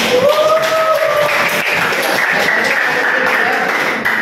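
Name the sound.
applause in class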